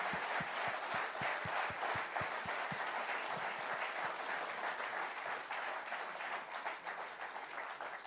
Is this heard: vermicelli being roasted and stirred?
no